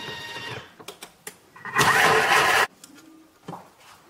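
Thermomix blade whirs loudly for under a second while chopping celery, onion and water at high speed, a dense roaring burst between quieter clicks and handling sounds.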